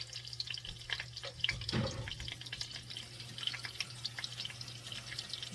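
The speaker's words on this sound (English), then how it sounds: "I'm running water into my bowl." Tap water runs and splashes steadily into a bowl, a continuous hissing patter with a few sharper drips, with no talking.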